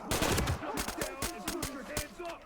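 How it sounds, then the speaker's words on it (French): Rapid bursts of gunfire from the tactical shooter Ready or Not, dense overlapping shots cracking in quick succession at close range, with faint voices mixed underneath. "Je suis en train d'essayer de lui tirer dessus."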